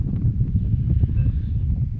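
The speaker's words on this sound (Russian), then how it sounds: "Шквалистый ветер, не знаю, что будет слышно." Squally wind gusts across an open field during a metal-detecting coin hunt, making a low, rumbling buffet close to the microphone.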